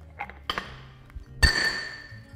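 A magnesium bar under a 25-ton hydraulic press gives a few small clicks and pings, then a single sharp metallic crack with a brief ringing tail.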